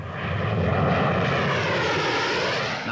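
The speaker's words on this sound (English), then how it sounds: "the English Electric P-1, the first British aircraft to exceed the speed of sound in level flight" An English Electric P-1 jet flies past at the 1955 Farnborough air show, a continuous loud roar with shifting tones as it passes, and no voices over it.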